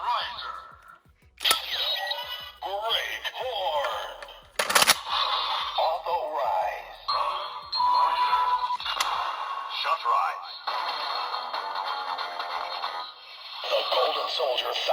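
A DX Zaia Thousandriver toy belt from Kamen Rider Thouser, fitted with a Zero-One progrise key, plays electronic sound effects: sharp clicks, blaring synth music and a loud announcer voice, with a burst of gunfire-like effects near the middle.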